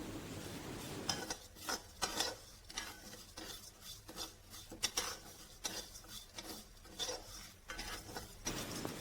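Dry spices, fenugreek, coriander and cumin seeds, being stirred and scraped around a hot pan with a spoon, a steady close rattling and rasping in irregular strokes for several seconds, with no voices.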